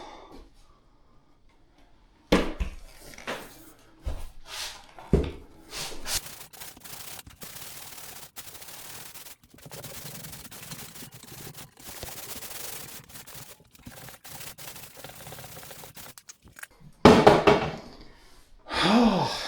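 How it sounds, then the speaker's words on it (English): Hand sanding of a drywall ceiling gives bursts of rough scraping and rubbing strokes with knocks and pauses between, fairly close and irregular, ending in a louder flurry of sanding. "sanding a ceiling sucks."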